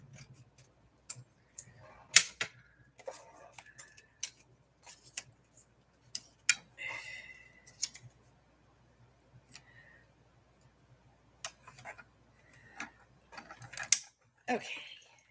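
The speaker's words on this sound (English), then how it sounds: "We haven't cut this one out yet, so let's cut this one out." Scissors snip through paper while a handmade journal is assembled, giving scattered, irregular crisp cuts and rustles at close range, with quiet stretches between them.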